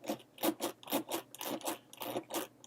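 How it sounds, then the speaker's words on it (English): New zipper on a leather bag pulled back and forth repeatedly, a quick rhythmic series of raspy zips about five per second, close and clear with no talking. "The zipper's probably going to need a little working over before it kind of breaks in."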